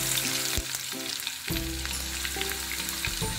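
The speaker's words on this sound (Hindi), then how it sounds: "पहले डालेंगे क्रश्ड गार्लिक, अच्छे से सौते होने देते हैं।" Crushed garlic sautéing in oil in a hot pan for veg Hakka noodles, a continuous crackling sizzle with a few sharp clanks of a spoon against the pan, no voices.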